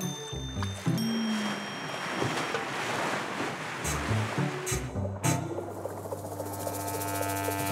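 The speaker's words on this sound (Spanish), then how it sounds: "Oye, ¿reconoces el bote que viene hacia acá?" A cartoon boat comes across the water toward the characters, its motor and wash blending with surf and wind in a steady, full rush of sound with no voices.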